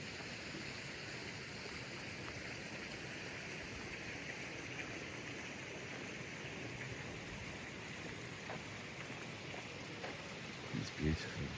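Water running through at a wharf in the morning: a steady, fairly faint rushing wash that continues unbroken, with a few small knocks near the end.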